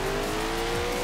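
A rear-wheel-drive older Lola race car in the video game Forza Horizon 4 holds a steady engine drone at constant loudness, a sustained tonal hum with no talking.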